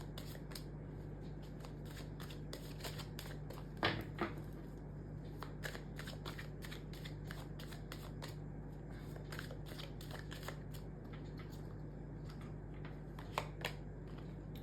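Tarot cards shuffled by hand in a quiet room, a run of soft, quick riffling flicks and taps with a few louder slaps, faint against low background hum.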